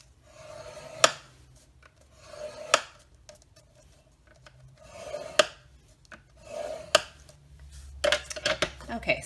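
A tool drags along marked lines to score cardstock for a tissue box holder. Several rasping strokes come one by one, each ending in a sharp tap, close and clear, with faster scraping near the end.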